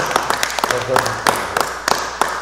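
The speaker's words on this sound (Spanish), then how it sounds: "Otro fuerte aplauso para Héctor" Applause at a Lawyers' Day commemoration event at the UNAM law faculty: evenly spaced, sharp claps repeat in a steady rhythm, with a voice speaking over them.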